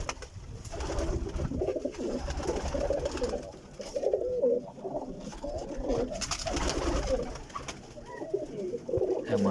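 Ferozpuri teddy pigeons cooing close by, several birds overlapping in continuous low rolling coos with rustling in the background.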